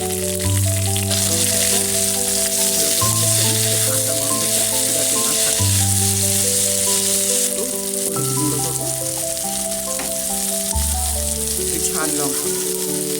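Potatoes fry in a pan with tomato, grated ginger and green chili added, giving a loud, steady close sizzle, with tonal music underneath.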